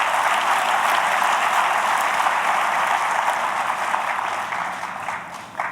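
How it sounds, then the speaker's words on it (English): Loud, steady audience applause at a library's commemorative ceremony for Dr. Martin Luther King Jr., holding strong before thinning out in the final second or so. "Please give Dr. Sadie Winlock a big round of applause."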